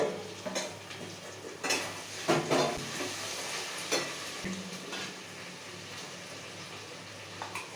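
Mutton browned in a pan as masala goes in, giving a soft steady frying sizzle with intermittent scrapes and clinks of a spoon stirring against the pan.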